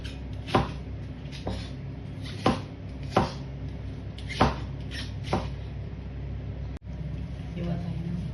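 A knife chops onion on a cutting board in a home kitchen while Chinese food is being cooked: a slow, uneven series of close, crisp thuds, about eight strokes, over low room hum, with a voice speaking faintly.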